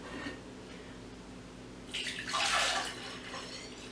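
Liquid strained off roasted fresh pumpkin pours into a measuring cup, a close, splashy trickle that swells into a fuller stream for about a second before easing off over a low background hum.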